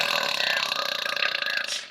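A long, loud, rattling burp from a gamer lasts almost two seconds, close to the microphone and on its own.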